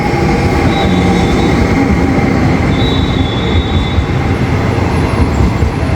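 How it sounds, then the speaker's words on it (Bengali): A local passenger train pulls into a rural station in China, a loud close rumble of rolling cars with thin wheel squeals rising above the steady roar. "আমাদের ট্রেন কিন্তু যে চলে আসছে, পুরো বাংলাদেশি ট্রেনের মতন"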